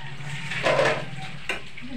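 Pork menudo frying and being stirred in a pan, a soft sizzle with a scraping stir burst midway and a sharp knock shortly after.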